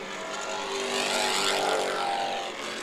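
Spec Late Model race cars racing at Irwindale Speedway during the main event, a loud blended engine roar swelling as the pack passes close by and then easing slightly.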